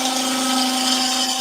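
Lathe gouge chattering against a wooden cabriole leg as it turns, a brief steady buzzing whine with a strong sustained tone, close and fairly loud.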